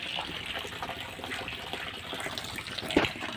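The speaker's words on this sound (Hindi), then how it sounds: "तो ये देखें, पानी चल रहा है" Water gushing steadily from newly installed ablution fountain pipes in a mosque, a continuous splashing flow heard up close with a brief louder splash near the end and no talk.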